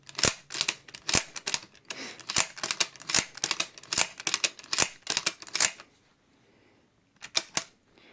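Mosin Nagant rifle with a custom bent bolt being cycled repeatedly, giving sharp close metallic clicks and clacks in quick bursts, then a short pause before a couple more clicks.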